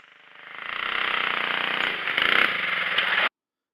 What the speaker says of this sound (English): the motor stalls when I go from low throttle to full throttle, and the motor feels like it's running a little hot